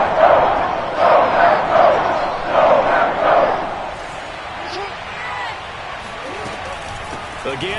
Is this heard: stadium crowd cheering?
yes